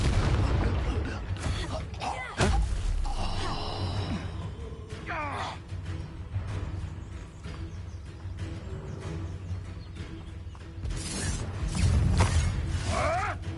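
Confringo fire spell blast in the video game Hogwarts Legacy, set amid combat: booming impacts and sweeping magical whooshes with rumbling game effects, including a sharp hit near the start and another surge near the end.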